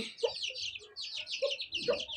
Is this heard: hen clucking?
yes